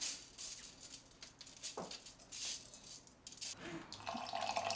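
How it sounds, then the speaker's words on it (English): Water pours from a tap into a pot of rice being rinsed for detoxing, a steady running splash with some drips and clinks, fairly faint throughout. "I'm adding water, and you'll notice I'm not measuring."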